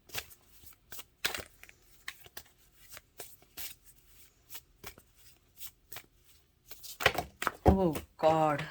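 Tarot cards being shuffled and drawn, heard as a run of quick, close, dry riffling snaps and slides, followed by a person talking over the last few handlings of the deck.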